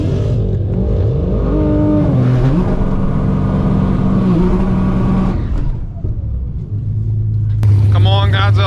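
A loud 1700-horsepower Nissan GT-R drag car engine rumbles and revs at launch, pitch climbing and falling, then a sharp high-revving surge near the end; voices shout over the roar.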